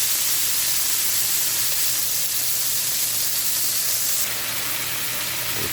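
A thick steak sears on its second side in a hot pan for a Mother's Day steak dinner, giving a steady, even sizzle and hiss that holds at the same close level throughout with no talking.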